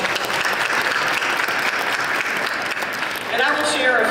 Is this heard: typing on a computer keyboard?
no